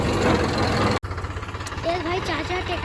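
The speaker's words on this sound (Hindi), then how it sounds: "चाचा ट्रैक्टर चलाते हैं" A tractor engine with a rotavator drones low and steady at close range, briefly cut off by a sharp dropout before rumbling on while voices talk over it.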